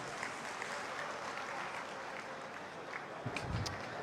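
An audience at a Haryana government ceremony for the Guru Gorakhnath memorial festival applauds in a steady, dense patter of clapping that holds evenly, with a few heavier thumps near the end.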